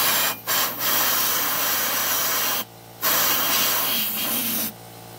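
Quick hissing blasts of spray cleaning out a spark plug, three loud bursts with short gaps between them, the last one starting near the end.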